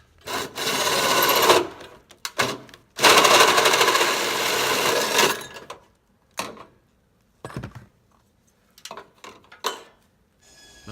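A hole cutter bores through gutter metal at a downspout spot in two loud grinding runs, followed by scattered short scraping and clanking bursts with quiet gaps between them.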